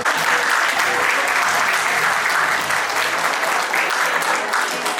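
A crowd at a community get-together and honouring ceremony in Ahmedabad claps in steady, dense applause for about five seconds, loud and close throughout.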